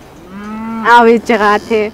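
Cattle in a Mongolian nomadic herd give a loud, close moo, a drawn-out low call swelling into several strong bellowing bursts, heard alone without voices.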